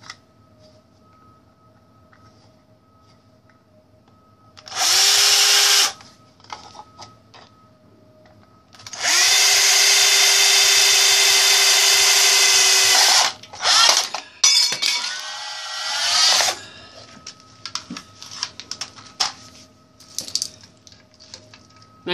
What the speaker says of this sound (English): I'll go ahead and drill a hole in the bottom here.